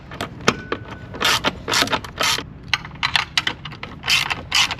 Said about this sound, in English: Then you'll tighten this down with a deep 10mm socket.